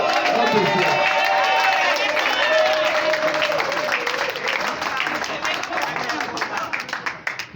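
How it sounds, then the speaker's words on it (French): Guests at a civil wedding ceremony applaud the bride, a loud, dense wash of clapping from a crowd that holds steady before breaking into scattered, thinning claps toward the end. "Nous invitons l'assistance à applaudir très fortement notre soeur."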